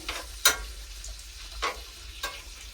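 Stew meat frying in a pot on a woodstove, a soft steady sizzle under a few sharper clicks and taps, with no talking.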